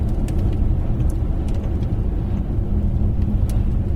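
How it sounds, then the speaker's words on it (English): Large opulent luxury car pulling away with decent urgency, a steady low engine drone and road rumble held close and loud throughout, with no talk over it. "I'm certainly pulling away with decent urgency."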